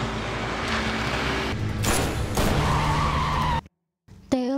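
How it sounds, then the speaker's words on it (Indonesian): An approaching car skids in a film scene after its tyres are shot out, giving a long, loud tyre-and-engine screech that cuts to sudden silence before a brief tonal sound. "Ia menggunakannya untuk menembak ban mobil yang mendekat padanya"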